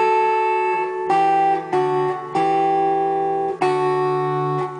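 Acoustic-style guitar plays a section of the Christmas carol O Come All Ye Faithful as plain strummed chords, several sustained chord changes ringing clearly and alone.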